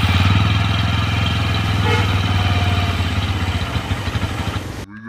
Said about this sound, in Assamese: এতিয়া মই আপোনালোক বাইকখনৰ ষ্টাৰ্ট কৰি সাউণ্ডটো শুনাই দিম ইঞ্জিন সাউণ্ডটো আপোনালোকে শুনি লওক